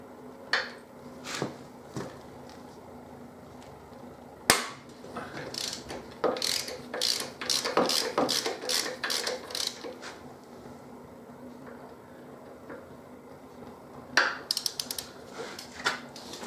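Ratchet with a Torx bit loosening tight bolts on a Harley-Davidson Deuce: scattered clicks and sharp metallic ratcheting bursts, close and fairly loud, with quiet pauses between and no talking.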